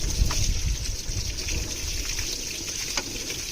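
Water flushes out of a Maruti Swift car radiator, a steady close gush and trickle with a few faint splashes running continuously throughout.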